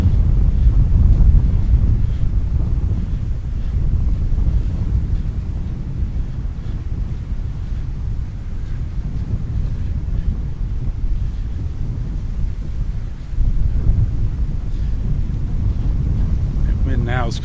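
Strong northwest wind roars continuously across a beach at Delnor-Wiggins, a heavy low rumble of gusts buffeting the microphone throughout, with a faint voice under it.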